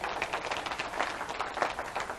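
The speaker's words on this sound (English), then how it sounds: "you should clap" A seminar audience claps at a Dan Peña business coaching event, a short, fairly faint patter of scattered applause that keeps going the whole time without any talking.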